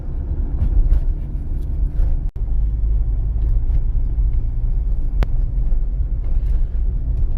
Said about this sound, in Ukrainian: Зараз я рухаюсь на другій передачі